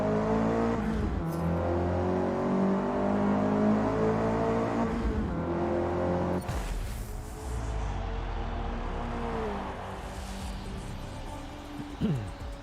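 Race cars in Forza Motorsport roar steadily with layered engine drones and rising revs, loud through most of the stretch, then thinning after a brief shift midway before the engines return at a lower level.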